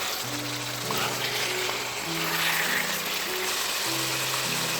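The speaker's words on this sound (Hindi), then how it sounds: "अब यहाँ पे हम इसमें ऐड करेंगे ऑयल और इसको थोड़ा सा भूनेंगे" Mutton pieces frying in oil in a cooking pot for aloo gosht, a steady soft sizzle running throughout, fairly close, with a low background hum and no talking.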